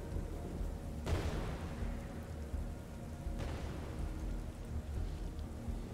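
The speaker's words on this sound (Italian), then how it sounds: "Tuoni, fulmini. Devastazione." Rain and thunder in the video game Strayed Light: steady heavy rainfall throughout, broken by two sharp, close thunder cracks that rumble and decay, with no talking.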